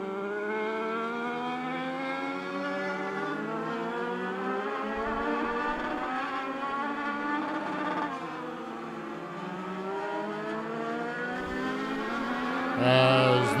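Race cars at Charlotte Motor Speedway roar past continuously, with engine pitch sweeping up and down as the cars pass and shift, a steady loud wall of racing engines without commentary.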